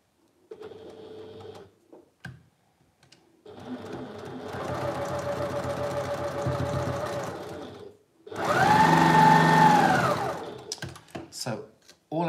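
A sewing machine runs in two bursts as it stitches a quilt block seam, the first a steady several-second whir, the second a louder, higher-pitched run, with brief pauses and handling noises between.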